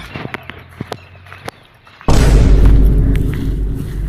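A short run of sharp snaps and pops, then a sudden loud boom that gives way to a heavy, sustained rumble.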